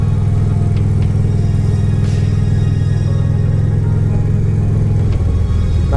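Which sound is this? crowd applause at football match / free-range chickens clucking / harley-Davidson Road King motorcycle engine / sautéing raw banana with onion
harley-Davidson Road King motorcycle engine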